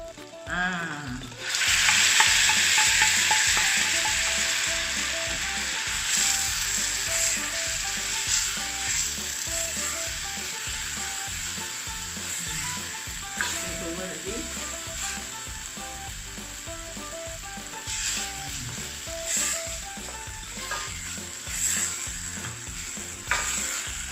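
Onions hit hot oil with garam masala and burst into a loud, dense sizzle that keeps crackling steadily for a long stretch, broken by frequent scraping stirs of a utensil against the pan.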